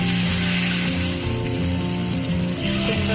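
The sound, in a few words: egg chips frying in hot oil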